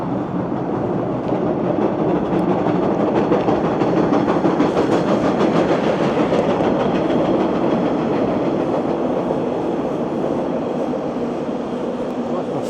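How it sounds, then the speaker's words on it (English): A train crossing a bridge over a frozen river in Etobicoke, Toronto, rolls past in a steady, loud broadband rumble with faint rhythmic clatter, continuous throughout without talk. "See a train passing over."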